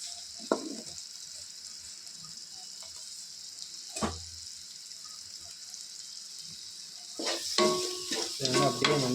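A spoon stirs salted food frying in a pan over a low, constant sizzle, with a few scraping strokes early on and a cluster of busier, louder stirring scrapes at the end.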